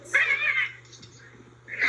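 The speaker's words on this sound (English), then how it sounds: "This is a cat." A shrill, strained cat yowl rises, fades, then starts again near the end over a low background hum.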